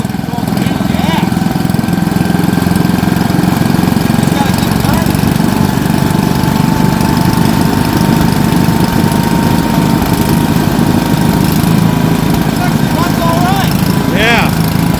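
A new-old-stock 1972 Briggs & Stratton 8hp cast-iron small engine runs continuously with a steady, loud, close chugging drone, with brief faint voices in the background.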